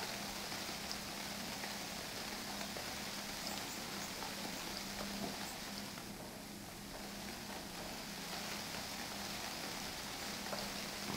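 Rain falls steadily in the survival game UnReal World, a soft, even hiss that continues throughout with no other sounds.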